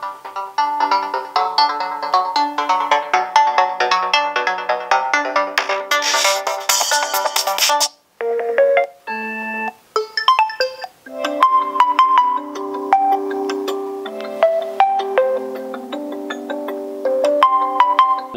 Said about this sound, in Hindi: कुछ साउंड प्ले करते हैं और देखते हैं हमारे पास इसकी रिंगटोन और इसकी